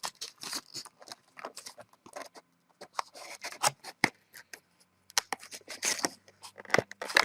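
Scissors cut and snip through the packaging of a Sansa Fuze+ MP3 player in a close, irregular series of crisp rustling snips, tears and crackles, with brief quiet pauses between bursts.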